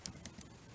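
A few quiet, quick keystrokes click on a computer keyboard in an uneven rhythm, faint and close, with nothing else sounding.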